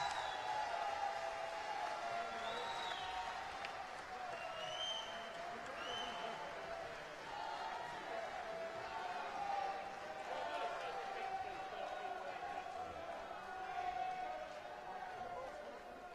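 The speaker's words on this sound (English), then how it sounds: "Ladies and gentlemen, I'm sure you're going to give him one more cheer." A wrestling crowd cheers and applauds for Scotty Too Hotty, a steady distant roar of clapping and shouts lasting throughout, with an announcer's voice over it.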